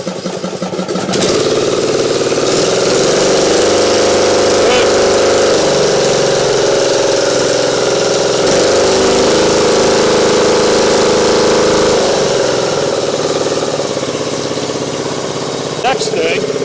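A Craftsman YT3000 lawn mower engine cranks and catches after a jump start, then runs steadily and loudly nearby at a constant throttle, with a brief voice under it.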